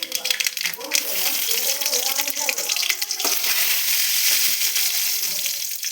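Mustard seeds and fenugreek sizzle and crackle in hot oil for a sambar tempering, a dense continuous frying hiss with scattered pops, close and loud throughout.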